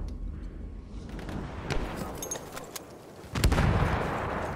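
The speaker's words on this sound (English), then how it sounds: "Is someone mortar firing?" Mortar fire in a combat video game: a couple of sharp, booming impacts, the later one heavier, break through a steady background rumble, fairly distant and moderately loud.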